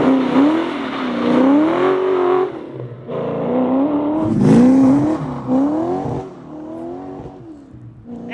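A Fox body M81 McLaren Mustang accelerates past outdoors on gravel, its engine note rising through several gears in loud, close sweeps before fading away, with no talk over it.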